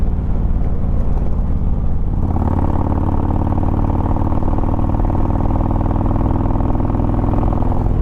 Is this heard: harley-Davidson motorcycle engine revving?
yes